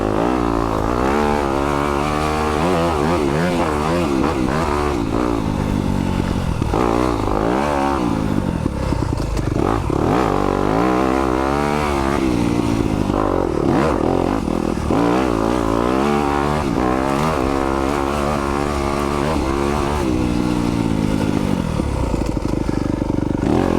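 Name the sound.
2020 Yamaha YZ250FX dirt bike engine riding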